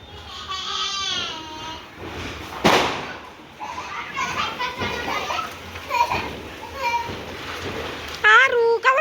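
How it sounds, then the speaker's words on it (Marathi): A sharp Diwali firecracker bang goes off once amid children shouting and chattering outdoors, with more distant pops and crackles scattered under the voices. "आज सगळे बाहेर फटाके फोडताय दाखवते तुम्हाला"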